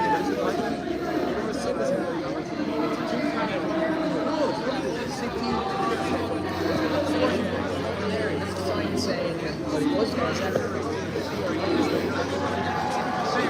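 Dense crowd chatter at an outdoor rally in Cork, Ireland, many overlapping voices in a steady close babble with a low hum running beneath.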